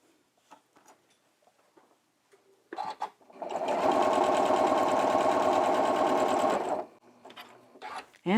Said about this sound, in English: you want to sew an accurate 1/4 inch seam, or as accurate as you can